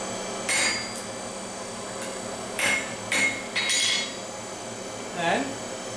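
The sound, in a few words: hammer forging a pruning knife on anvil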